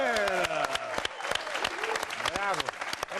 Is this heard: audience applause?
yes